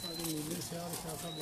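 Blue-black pigeons cooing, a few rolling low coos close by over steady background noise.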